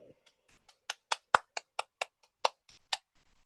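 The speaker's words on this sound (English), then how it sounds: "Let's give a big round of applause for Sergeant at House for today's meeting." Scattered claps from a few attendees at an online Toastmasters meeting, around a dozen sharp separate hits spaced unevenly over a few seconds, close and fairly quiet.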